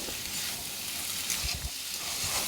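Steady sizzling of a spice paste, with fried coriander and cumin, in a pan, with occasional scraping and stirring sounds, continuous and fairly close, no voices, while cooking a gourd and mung bean stew.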